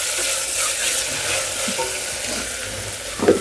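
Ginger garlic paste fries in a pan, a constant close sizzle with faint stirring scrapes and a small clink near the end, with no voices.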